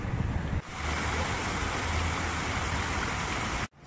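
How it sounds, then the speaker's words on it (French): Fountain water pours and splashes steadily on Place de la Liberté in Toulon, a dense even rush close by with no voices, cut off abruptly near the end. "La fontaine."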